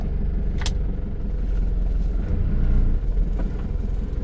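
Idling diesel engine of a 1995 Isuzu TFR pickup truck heard up close, a loud steady low rumble with a brief clunk as the gearbox is shifted into reverse.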